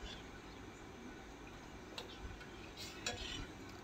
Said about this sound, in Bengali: তো সুন্দরভাবে নাড়া না দিলে চারিদিকটা কিন্তু জমে যাবে, তাই নাড়া দিচ্ছি।